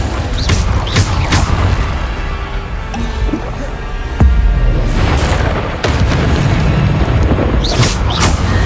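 Repeated heavy booms from Bombarda explosive spells in Hogwarts Legacy combat, with a loud blast near the middle amid dense, continuous rumbling impacts and debris noise throughout.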